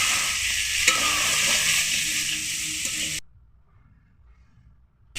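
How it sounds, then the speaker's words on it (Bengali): Boiled figs and prawns sizzling loudly in hot oil, with a spoon stirring and scraping the pan up close, then the sizzle cuts out abruptly after about three seconds, leaving near silence. "ডুমুরটা দিয়ে ভালোভাবে কিন্তু কষতে হবে"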